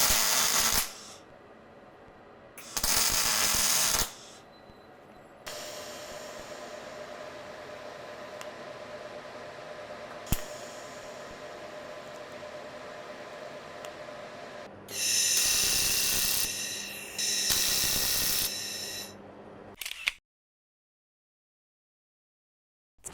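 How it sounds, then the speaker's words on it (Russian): A Wattsan laser welder tack-welds pieces of steel pipe, giving several loud hissing bursts of a few seconds each. Between the bursts a steady fan-like hum runs, and the clip ends in silence. "Предлагаю их прихватить и посмотреть, насколько сильно каждый из них поднимет."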